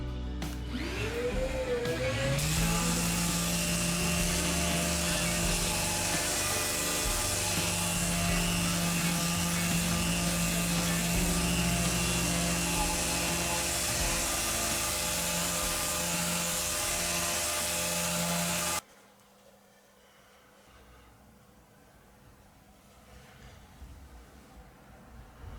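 A steady, loud electric sander drones with a high whine while sanding a wooden guitar neck for about nineteen seconds, then cuts off, leaving quiet room noise.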